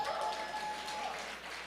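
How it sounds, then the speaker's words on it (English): At an anniversary gala in New York, an audience claps for itself. The clapping forms a steady, moderately distant wash of applause with a faint tonal hum running under it and no voices. "Clap for yourselves."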